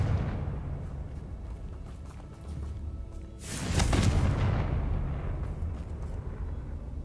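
A Confringo blasting spell explodes in Hogwarts Legacy, a single loud booming burst with a rumbling tail over a dense game soundscape.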